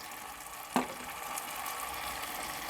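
Spices frying in a pan for a mixed vegetable curry, a soft, steady sizzle with one brief stir or scrape near the start, faint and close.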